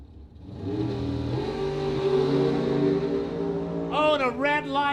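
A Super Pro bracket dragster's engine roars at a drag strip, rising in a long building wail, loud and sustained, then a different revving engine cuts in near the end.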